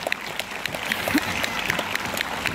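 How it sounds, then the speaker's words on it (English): An audience at a school's annual function applauds the teachers with steady clapping. The crackle of many hands continues at a moderate level, spread out as in a hall, with a little voice mixed in. "A huge round of applause to all the teachers of SS Divine School."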